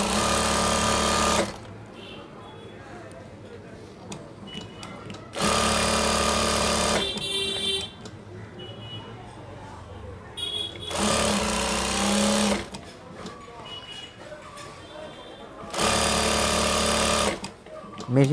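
An electric sewing machine runs a trial stitch on fabric for a fishcut frock in four loud bursts of fast rattling, with someone talking quietly in the pauses between runs.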